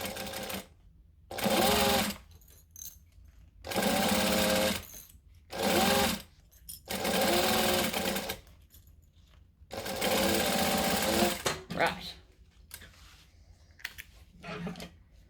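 A sewing machine stitches fabric near the raw edge in five distinct bursts of rapid, buzzing needle action separated by short pauses, close and clear, with faint handling noise between runs.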